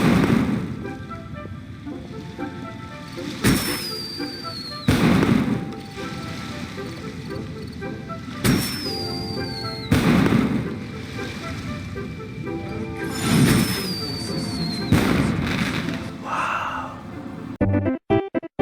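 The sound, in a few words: fireworks show in Genshin Impact, a video game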